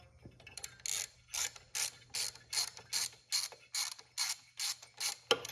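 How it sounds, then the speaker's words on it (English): A ratchet wrench clicks in about a dozen quick, evenly spaced bursts while loosening the spark plug on a 1978 Suzuki DS100 two-stroke motorcycle, close and clear with no talk. "So we'll pop that off, get our spark plug out."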